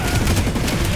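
Dense automatic gunfire from the Planetside video game, a rapid sustained burst of shots that fills the whole second at steady loudness, with no pause between rounds.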